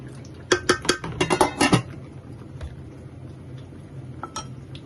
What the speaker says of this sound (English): I'm putting the lid on sideways because I don't want it to splatter around.